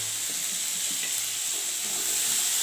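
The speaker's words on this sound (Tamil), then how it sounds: "தக்காளி நல்லா வதங்கட்டும்" Tomatoes and salt sauté in a pan for a greens chutney, giving a steady, even sizzle that hisses on without a break at moderate loudness, with no voices.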